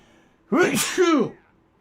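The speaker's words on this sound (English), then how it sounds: "Excuse me, I gotta sneeze." A single close, loud human sneeze bursts out in two quick voiced surges, then fades into quiet.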